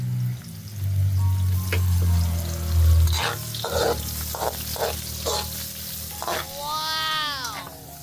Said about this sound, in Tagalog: Gigisa na ho si Chef